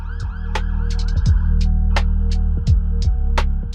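Police car sirens wail through closed-off downtown Toronto in the evening, loud and close, with rapid repeating yelp sweeps rising and falling over a low engine hum.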